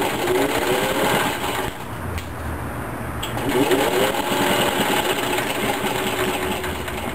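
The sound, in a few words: sewing machine stitching Velcro strips onto a bag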